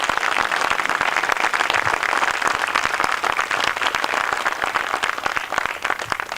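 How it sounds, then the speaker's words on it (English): An audience at a Deputy Governor awards ceremony applauds the award winners, with dense, steady clapping from a large crowd that fills the room and holds at a strong level throughout, with no speech over it. "I want you to please give our winners here a big round of applause"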